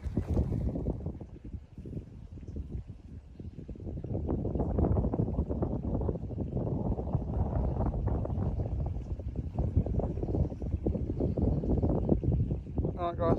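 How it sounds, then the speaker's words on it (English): Steady wind blowing across an open field during metal detecting, a continuous low rushing buffet that rises in strength and stays close and loud throughout. "wind's got up a bit now"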